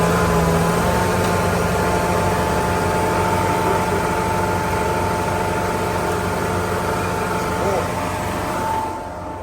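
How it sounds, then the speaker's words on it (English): A carpet cleaning truck's engine runs loud and steady for nearly the whole stretch, powering a pressure washer, then drops off slightly at the very end. "So I take my pressure washer gun, hook it up to my carpet cleaning truck."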